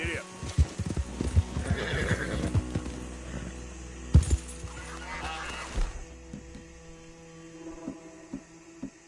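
A horse neighs and whinnies loudly up close, with the steady clip-clop of hooves and a low hum beneath, while a rider's voice speaks briefly over the sounds.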